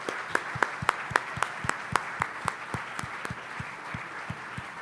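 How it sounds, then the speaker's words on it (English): At a groundbreaking ceremony for a manufacturing plant, an audience claps in a steady, rhythmic beat of sharp, evenly spaced hand claps, close and fairly loud, without speech. "Huge round of applause."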